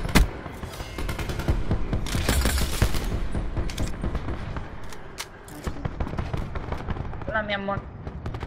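Gunfire from a Call of Duty Black Ops 4 team deathmatch on the Casino map: dense, overlapping bursts of shots and booms fill most of the clip, with players talking over the action.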